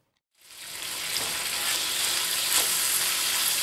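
Sausage for lasagna frying in a pan, a steady bright sizzle that starts abruptly and holds loud and even throughout, close up with no talking.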